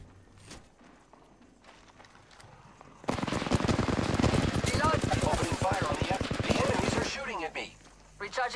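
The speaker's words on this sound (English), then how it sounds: "They're shooting at me." Sustained automatic gunfire in the Apex Legends video game, a loud dense burst of rapid shots lasting several seconds, with quieter game sounds and brief voice callouts before and after.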